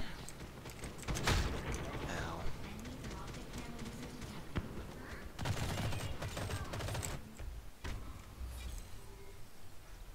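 Shotgun blasts in the online shooter G.I.T.S.: First Assault, a few loud bursts scattered through dense game noise and faint voices.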